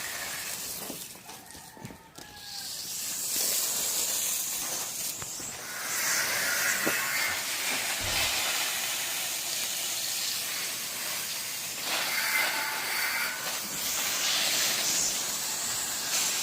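Water from a garden hose sprays steadily onto spinach, lemongrass and chili plants in a home garden, a continuous broadband hiss that swells and eases over the whole stretch, with no talk.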